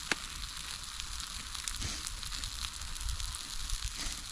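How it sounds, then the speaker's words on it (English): Big sausages and burgers frying in a pan at a solo wild camp, giving off a steady close sizzle and crackle that runs throughout with no talk. "I'm sizzling away. And at the same time, because these are big ass sausages."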